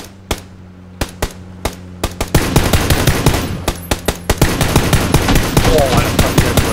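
Rapid gunfire in the battle royale game PUBG: sharp repeated shots and bursts in irregular rhythm, close and loud, with a steady background of game ambience and occasional talk.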